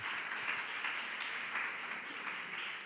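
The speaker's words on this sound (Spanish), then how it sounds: "¿Qué tal si damos un aplauso fuerte al Señor por la vida de esos hermanos?" A church congregation applauding together, a dense, steady wash of many hands clapping at a distance, sustained evenly throughout with no voices over it.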